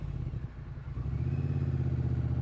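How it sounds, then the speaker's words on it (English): A 2017 Triumph Street Cup's 900cc parallel-twin with a 270-degree crank runs steadily nearby, a low, lumpy V-twin-like throb that grows slightly louder and firmer partway through. "270 crank, so it sounds like a V-twin."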